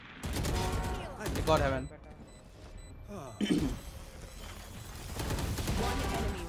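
Gunfire in the Valorant shooter game, a few bursts of shots under near, continuous talk from a player.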